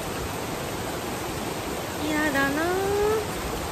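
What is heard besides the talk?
heavy rain on a mountain trail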